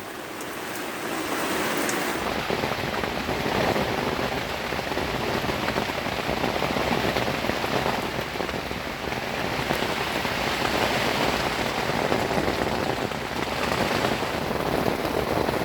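Heavy, persistent rain falls at a lakeside carp and catfish fishing spot, a loud, dense, steady hiss of drops drumming on nearby surfaces with no let-up throughout.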